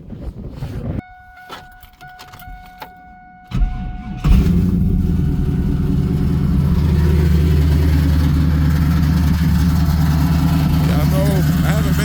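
A car engine cranks and catches after a few seconds of quieter background, then settles into a loud, steady rumbling idle that continues without a break, with some voice heard near the start.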